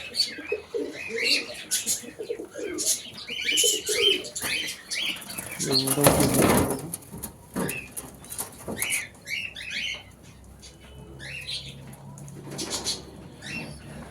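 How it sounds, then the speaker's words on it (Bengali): A pigeon being treated for pox flaps its wings in bursts, with soft cooing and chirps nearby, the flurry loudest in the middle. "ডানাতে পায়রাটা বেশি ছটফট করছে"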